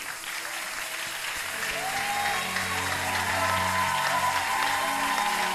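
Congregation clapping at a prophetic church service, sustained dense applause from a crowd with cheering voices and music rising underneath, building slightly louder toward the end.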